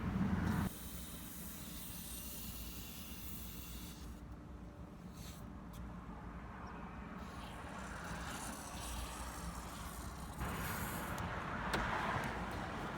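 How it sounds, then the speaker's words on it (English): Aerosol spray hissing onto the power window tracks of a car, a steady close hiss running throughout with a brief louder burst near the end. "just spray your other windows"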